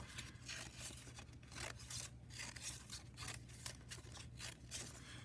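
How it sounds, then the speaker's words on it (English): Scissors snip rapid zigzags back and forth along the folded edge of scrap construction paper, giving a steady series of close, crisp cuts with a faint low hum underneath and no talk. "I just folded a piece of scrap construction paper in half. And then on the ends, I just cut a bunch of zigzags back and forth"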